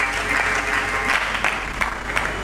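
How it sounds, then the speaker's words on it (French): A church congregation breaks into loud, sustained applause, a dense wash of clapping that holds steady from start to finish. "Nous acclamons très fort."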